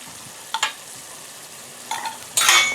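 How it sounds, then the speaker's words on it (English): Salsa spooned into a pork and pepper stew cooking on a Weber kettle grill: three short, wet scraping stirs, the last one louder, over a quiet background. "I'm going to take this salsa here and I'm going to put a couple tablespoons of that in there"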